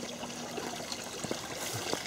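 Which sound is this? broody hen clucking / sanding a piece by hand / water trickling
water trickling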